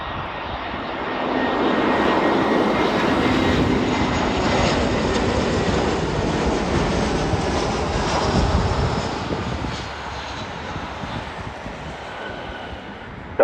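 A Delta airliner lands on runway 24 right at Los Angeles International Airport, its engine roar swelling loud and broad early on, then holding steady and slowly easing off, with wind buffeting the microphone.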